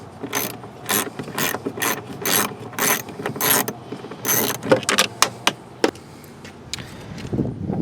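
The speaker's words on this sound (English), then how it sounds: "grab yourself an 8mm, take and remove this bolt here" A ratchet wrench with an 8mm socket backs out a bolt inside a Lincoln MKZ or Ford Fusion door during interior handle replacement, giving repeated close, crisp clicking bursts in an uneven rhythm, with no talking.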